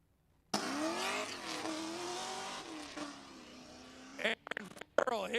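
Nissan G35 drift car with a swapped 5.3 liter V8 at a drift event, its engine roaring loud and steady with rising and falling pitch, then breaking into choppy bursts of revving and tire noise near the end.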